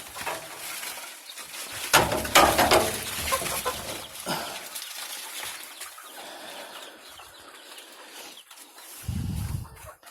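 Backyard homestead chickens cluck and flap their wings nearby in bursts, with scattered rustling and a deeper squawk near the end.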